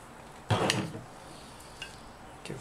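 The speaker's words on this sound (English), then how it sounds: "Give that a stir." Food being stirred in a frying pan, with one loud scraping, sizzling stir burst followed by a few faint clinks of the utensil against the pan, close and alone.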